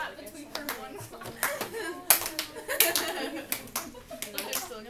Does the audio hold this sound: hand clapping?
yes